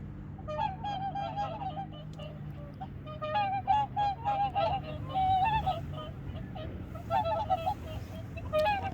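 Swans floating on a lake with ducks at Semiwon in Yangsu-ri call in repeated nasal honks, some overlapping, heard at moderate distance over a soft outdoor background.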